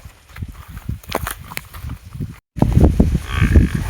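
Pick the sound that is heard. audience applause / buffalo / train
buffalo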